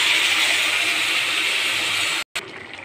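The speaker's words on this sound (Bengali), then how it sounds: "এবার ঢেলে দেবো কুকারে সিদ্ধ করা" Pressure-cooked boiled vegetables poured into a pan of hot oil tempered with bay leaf and five-spice, giving a steady loud sizzling hiss that cuts out abruptly near the end.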